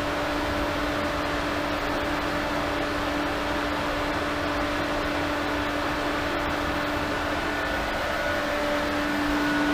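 Pool pump motor ramping up to its maximum 3450 RPM, giving a steady, loud, continuous hum and whir with a constant tonal drone that holds level throughout, no voices.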